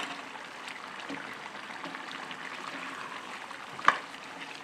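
Potatoes go into beef being browned in a pan for a potol and beef curry, giving a low, steady sizzle and stir with one sharp clatter near the end.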